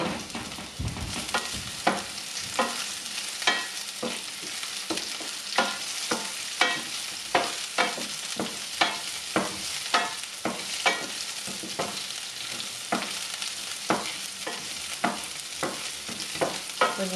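Green chillies and curry leaves fry and get stirred in a pan while making Tamil potato bonda, a steady sizzle broken by regular scraping strokes of a spoon, close up and with no voices.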